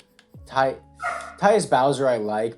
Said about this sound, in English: Dogs are barking. Sorry if you hear that in the background.